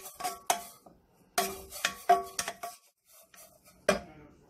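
A utensil scrapes and clinks against a hot pan or pot as shredded chicken floss is rubbed dry, producing irregular metallic taps and scrapes between quiet pauses.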